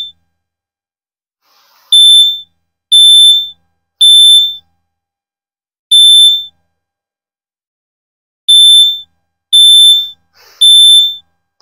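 A CrossFit box timer buzzer, fitted with an added capacitor, gives seven short, shrill electronic beeps in two irregular groups. Each beep is loud and close, with silence between them.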